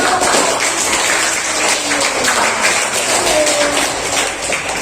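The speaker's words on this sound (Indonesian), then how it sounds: "Tepuk tangan dong untuk" A classroom of students applauding a group's presentation on a direct-current electricity simulation, a steady patter of many hands clapping at moderate volume that fills the room for several seconds.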